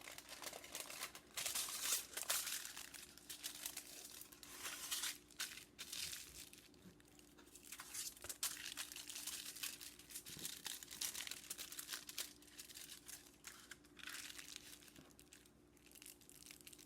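Aluminum foil is folded down for foil tooling art, crackling and crinkling in irregular bursts close up but quietly, with no one speaking.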